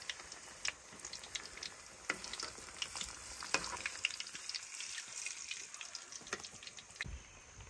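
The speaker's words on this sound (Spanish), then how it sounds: "Mira qué tanto ya estoy friendo." Plantains fry in oil for a sweet fried-plantain dish with cheese, a steady crackling sizzle broken by sharp pops and scraping stirs, close and fairly quiet, with no voices.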